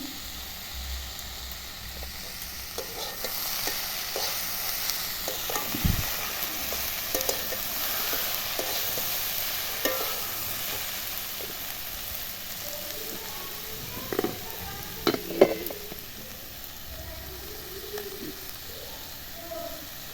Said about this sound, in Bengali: ফার্স্ট ফার্স্ট একটু ভালো করে মিশিয়ে নিলাম এক চামচ হলুদ দিয়ে দিলাম